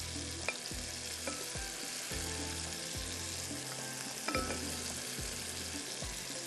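Boiled mutton drops into a hot pan and sizzles, frying steadily and close up under a rhythmic series of stirring scrapes and soft knocks, with no one speaking.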